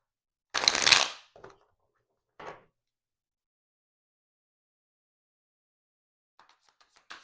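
A stiff tarot deck being shuffled, a loud riffling burst at the start followed by a couple of short card taps and faint rustles after a long pause, close and without any talking.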